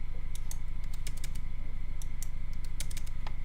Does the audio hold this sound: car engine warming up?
no